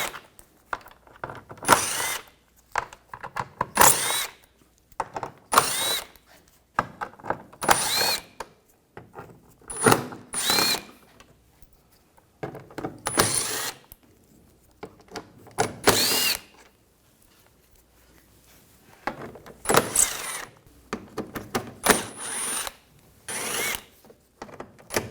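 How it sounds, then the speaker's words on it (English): Power tool with a 7mm socket removing bumper cover screws under a Ford Escape: repeated short bursts of whirring drill and ratcheting, separated by quiet pauses and faint handling clatter. "Underneath here, we're going to take all these screws out."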